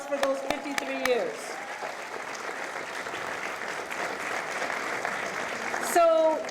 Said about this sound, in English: how about a nice round of applause for those 53 years?